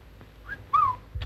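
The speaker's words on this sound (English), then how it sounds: "I can hardly hear the car engine for whistles" Whistling from people in a 1948 British film scene, heard as a few short, bright tonal whistles with rising and falling pitch, fairly close and loud over a low background rumble.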